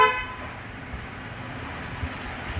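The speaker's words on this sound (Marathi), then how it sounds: "पॉम गाडी आली" A vehicle horn toots briefly at the start near a temple, over a low rumble of road traffic that continues afterward, with faint background sounds and no clear voices.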